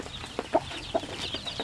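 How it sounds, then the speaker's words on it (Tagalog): A mother hen among native Basilan chickens and chicks clucks in short, separate bursts, close by over a faint farmyard background with no talking. "yan yung inahing manok"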